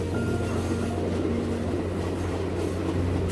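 A train runs through the 6,379-metre Samalada Tunnel, a steady, loud, enclosed rumble and drone with sustained low tones that holds evenly throughout, with no talk.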